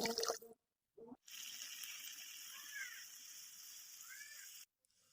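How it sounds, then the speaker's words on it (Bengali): Water pours into a cooking pan of sautéed boiled potatoes in a steady, fairly faint stream lasting about three and a half seconds, framed by brief kitchen clatter at the start. "কষানো হয়ে গেলে এর ভিতরে জল দিয়ে দিলাম"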